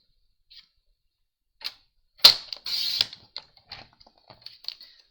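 Scissors or a blade cutting through a strip of card paper at a 4 cm mark: a few sharp crisp snips and a short scraping cut, followed by lighter scattered clicks of handling, close and fairly quiet.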